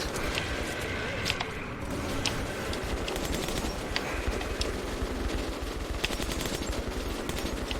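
Continuous rapid automatic gunfire firing military incendiary rounds in the video game Metro 2033, dense bursts of shots running the whole time, loud and close with a busy game backdrop.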